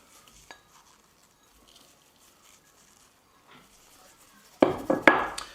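Parsley and parmesan get mixed in a bowl, heard as faint scattered clinks and taps that turn into a cluster of louder scraping and knocking strokes near the end.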